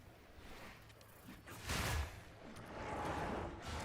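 Spell explosions from an ice-focused Bloodmage build in the action RPG Path of Exile 2, a dense run of crunchy bursts and whooshes with a louder impact midway, steady and fairly close.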